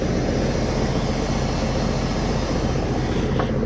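Air dumps from a truck trailer's suspension in a loud, continuous rushing hiss, broad and steady from start to finish.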